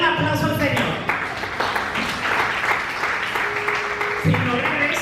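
A church congregation claps steadily in a dense, sustained round of applause throughout, loud and close, with voices and music tones mixed beneath it.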